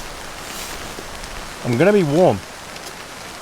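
Rain falling on a tent during a camping trip, making a soft, steady patter in the background while someone speaks briefly over it.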